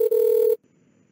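A desk hard phone on a FreePBX system gives a single short electronic ring tone after an extension is dialed; the tone cuts off abruptly, leaving near silence.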